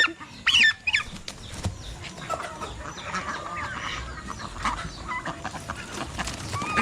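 Backyard chickens on a farm in Batangas cluck and squawk nearby in scattered, overlapping calls, with a sharp loud outburst early on and steady chattering clucks after it, along with other fowl.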